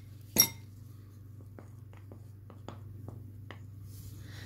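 A spoon clinks against a bowl while dough for homemade shirmal milk bread is mixed, giving a series of light, sharp taps at an irregular pace after one louder knock, close by over a low steady hum.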